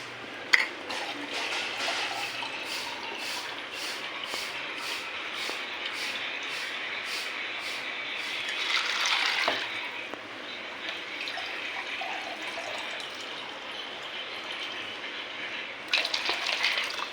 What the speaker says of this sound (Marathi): तर आता याच्यामध्ये मी पाणी घेते.